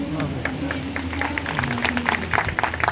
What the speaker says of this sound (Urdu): تالیاں بہت کام بجائی ہیں آپ نے